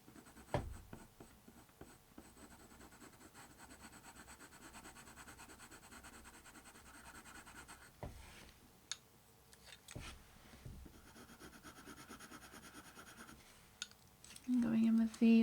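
Colored pencil shading on paper with a sharp walnut brown pencil, a continuous soft scratchy rubbing with light strokes and a few taps, close and quiet.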